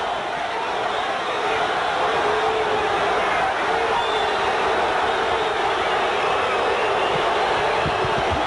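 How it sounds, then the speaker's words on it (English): Boxing arena crowd booing during the Oscar De La Hoya vs Miguel Angel Gonzalez fight, a dense, continuous roar that fills the whole stretch at a steady, fairly loud level with no clear breaks. "Part of the crowd beginning to boo as it appears De La Hoya is coasting and sitting on his lead"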